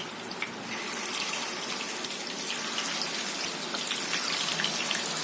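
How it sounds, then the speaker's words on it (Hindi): Kebabs made from raw minced meat frying over medium heat in a pan of hot oil, giving a steady, even sizzle and crackle that runs continuously throughout without any talking. "अब इसे कर लेते हैं हम फ्राई।"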